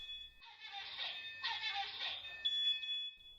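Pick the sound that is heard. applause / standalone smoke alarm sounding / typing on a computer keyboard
standalone smoke alarm sounding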